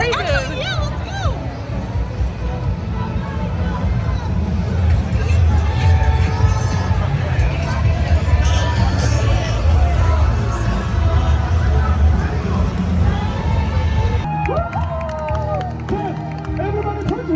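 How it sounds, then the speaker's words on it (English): An outdoor crowd cheers and praises with a dense babble of voices, shouts and scattered clapping, loud and continuous, with people talking throughout. "Oh, they're over there praising."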